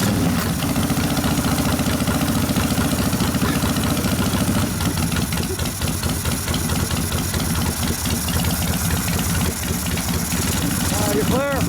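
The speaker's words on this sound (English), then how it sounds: "you rev it up a little bit and let the clutch burn the oil off" A rebuilt 1972 Harley-Davidson XL Ironhead Sportster engine, started cold on choke, chugs through a loud, steady idle with lumpy pulsing and slight rises in revs, close up, while voices speak nearby.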